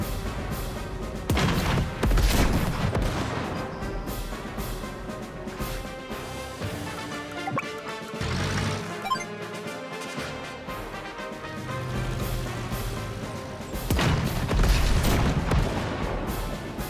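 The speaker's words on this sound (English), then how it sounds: "Oh, our tank can initiate onto their tank." A tank opens fire on an enemy tank in the strategy game Advance Wars, with heavy booming cannon blasts and crashes over a continuous game music bed, the loudest impacts near the start and again near the end.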